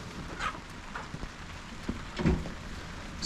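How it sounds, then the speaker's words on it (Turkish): Rain patters steadily with scattered drops and soft taps against a surface, a continuous wet hiss throughout. "Yağmur yağıyor"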